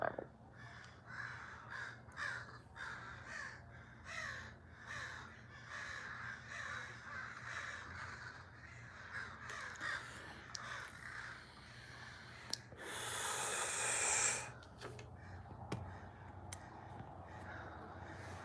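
Crows caw repeatedly in short, harsh calls at a moderate distance on a morning, with a brief burst of broadband noise partway through and no talking.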